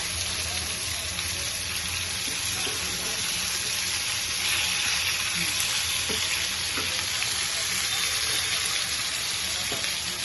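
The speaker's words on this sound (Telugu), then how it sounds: "మనం ఫ్రై చేసుకుంటాం దీన్ని ఇలా మంచిగా వేగపెట్టి బాగా వేగాలి" Korameenu fish frying in oil in a pan, a steady, dense sizzle that carries on throughout, with a few soft clinks of utensils in the background.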